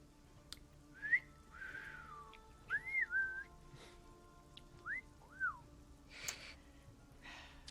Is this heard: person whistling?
yes